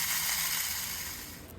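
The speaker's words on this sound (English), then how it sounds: "This little cute vacuum that Renee got actually makes noise" A small toy vacuum cleaner from Daiso runs with a constant buzzy, rattling whir, close and fairly loud, fading slightly near the end, with no talking.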